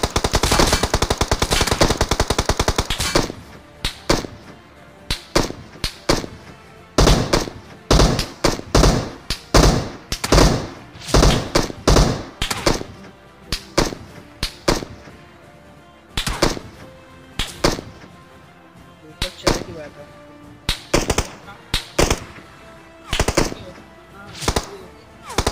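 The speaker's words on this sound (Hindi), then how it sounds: "यहाँ पर भाई गदागद फायरिंग दे जा रहे हैं" Heavy gunfire in the battle royale game BGMI / PUBG, a dense opening burst followed by repeated loud, sharp shot volleys in irregular clusters over about 25 seconds.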